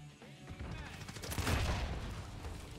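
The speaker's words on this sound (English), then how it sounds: "Whose fucking grenade just blew?" Grenade going off during a shooter match on Nintendo Switch, a sudden booming burst swelling through the middle of a short, otherwise muffled stretch of game noise.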